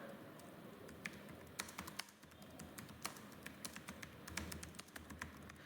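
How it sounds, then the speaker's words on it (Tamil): Quiet, rapid keystrokes on a computer keyboard form an irregular stream of soft clicks, with occasional louder taps and no one speaking. "இங்கே நான் ஃபஸ்ட்டு நான் டைப் பண்ணிடுறேன்."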